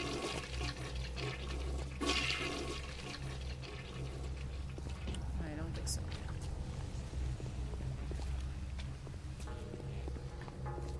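Toilet flushing inside a BioShock Remastered bathroom: a sustained rushing, gurgling water surge over steady low game ambience, with a voice talking over it.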